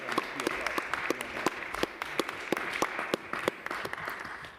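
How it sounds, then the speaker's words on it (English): Audience applause at a city council oversight hearing, a steady burst of many hands clapping in a large room, with sharp individual claps standing out throughout. "We can clap for that"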